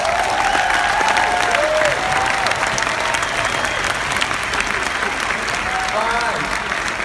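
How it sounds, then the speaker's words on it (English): Dense audience applause fills a convention hall, loud and sustained for several seconds, with a few voices calling out over the clapping. "Let's give all of these people a round of applause."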